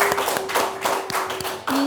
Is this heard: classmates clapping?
yes